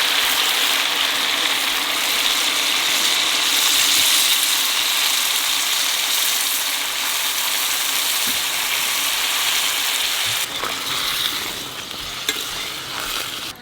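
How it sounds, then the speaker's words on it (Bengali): Water pours into a pan of fish curry with a steady, loud rushing hiss that holds for several seconds, then changes near the end as the flow shifts. "এখানে জল দিয়ে দেবো।"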